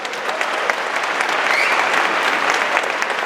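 An audience at a TANTEX Sankranthi mimicry and ventriloquism show in Texas breaks into dense, steady applause that holds at an even, full level throughout, with no voices over it.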